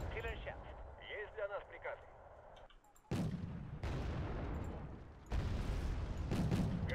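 Anti-tank and anti-air missiles launch and detonate in the Wargame: AirLand Battle video game, sharp booms cutting in twice and rumbling on loudly, while someone talks over the earlier part.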